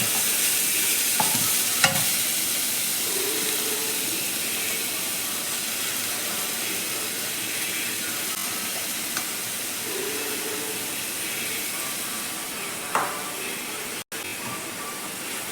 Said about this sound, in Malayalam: നെയ്യ് ചൂടായി നമുക്ക് ഈ ക്യാരറ്റും നാളികേരവും കൂടെ ചേർക്കാം